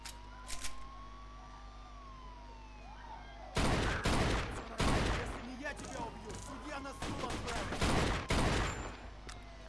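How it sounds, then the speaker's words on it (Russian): Gunfire during a shootout in the video game Jimmy's Revenge, a hunt on a lion pride, heard as a rapid run of loud, sharp shots and impacts over a low game hum after a quieter opening, with someone talking. "Да что же я так плохо стреляю?"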